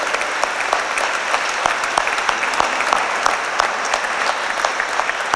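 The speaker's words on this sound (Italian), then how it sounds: "facciamo un applauso allora al nuovo priore." An Italian church congregation at a novena for the Madonna del Carmine claps steadily for a newly elected prior. The applause is dense and continuous, with individual sharp claps standing out throughout.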